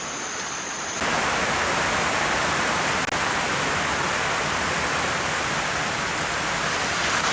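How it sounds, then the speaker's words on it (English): Steady, dense hiss of jungle rain starts abruptly and continues evenly, loud and close, with no voices. "So it's raining outside"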